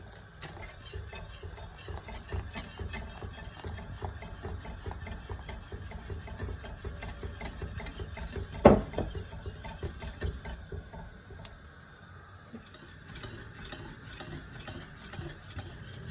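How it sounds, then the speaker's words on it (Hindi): Custard mix is stirred into boiling milk for bread custard, a spoon scraping and swishing steadily around the pot with one sharp clink partway through, close and continuous without talk. "अब इसमें हम कस्टर्ड मिक्स करेंगे"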